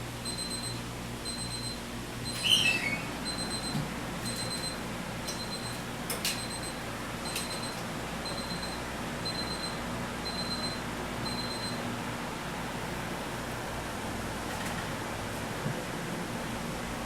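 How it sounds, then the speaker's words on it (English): A kitchen timer goes off while no-knead bread is being made, giving a steady run of faint high electronic beeps that repeats for about twelve seconds and then stops, with a low background hum throughout. "you probably hear the timer"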